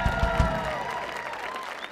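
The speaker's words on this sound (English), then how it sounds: "let's have a big round of applause once again for Mr. Mark Henney on the drums." A live concert audience at the Millennium Stage claps for the drummer, a dense, even wash of applause holding for the full stretch while a sustained instrument tone and low thumps sit beneath it.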